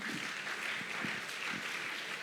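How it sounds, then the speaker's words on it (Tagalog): A church congregation applauds during a sermon, a broad continuous wash of clapping held at an even level for about two seconds, with no speech over it. "Palakpak sa Panginoon."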